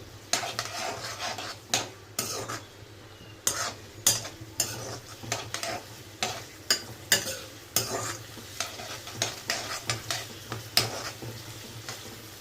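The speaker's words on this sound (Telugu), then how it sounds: "ఇట్లా కలుపుతూనే ఉండాలి. అది మంచిగా ఎగుతుంది అట్లా." Chicken fry being stirred in a pan, a steady run of rhythmic spatula scrapes and clanks roughly every second over a continuous sizzle, close and fairly loud with no talking.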